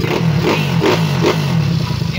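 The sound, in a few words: Yamaha Mio scooter engine revving while warming up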